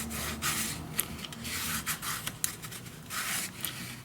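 Bone folder burnishing paper inside a pocket of a mini album, soft repeated rubbing strokes, quiet and close, with no talking.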